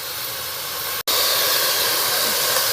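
Thinly sliced onions frying in a pan in an indoor kitchen, a loud, steady hiss of sizzling oil that cuts out for a split second before resuming just as strongly.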